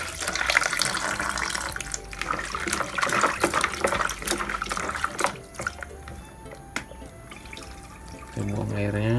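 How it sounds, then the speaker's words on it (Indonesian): Traditional herbs are rinsed under a running tap, a steady broadband wash of water that fills most of the clip, with clattering handling sounds and a voice talking over it. "Jadi sebelumnya kita cuci dulu, guys."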